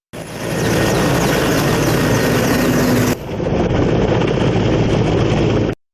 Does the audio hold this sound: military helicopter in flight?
yes